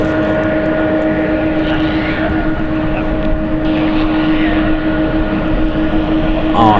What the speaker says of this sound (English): We got 3 Uniteds, all 777s departing here